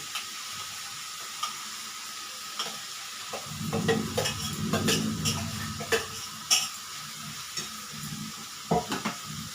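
Boiled lentils tipped into a hot frying pan for dal chorchori and stirred; a quiet start swells into a steady sizzle around the middle, with scraping spatula strokes and light metallic clinks throughout.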